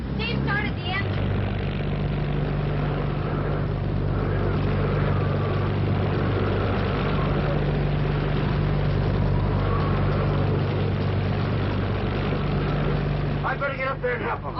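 A boat engine drones steadily in an old Hollywood film set during a hurricane, a constant low hum running the whole time, with brief voices at the start and end.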